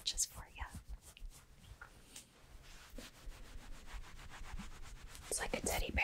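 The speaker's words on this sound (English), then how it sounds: "Get some fabric scratches for you." Fingers scratching the fabric of a teddy-bear-like coat, giving close, soft rubbing and scraping strokes in quick bursts, with quiet whispering voices mixed in.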